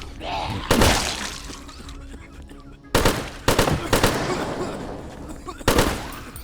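Bursts of loud gunfire in the video game Zompiercer, in several separated volleys, sharp and close, with game-style background sound between them.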